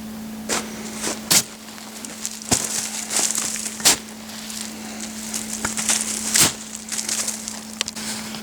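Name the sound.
fork picking rotten maize silage off the clamp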